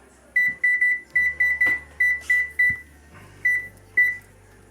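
An oven timer is set for dry-rub ribs, giving a series of about eleven short, bright electronic beeps at an uneven rhythm, close and clear with faint kitchen hum beneath.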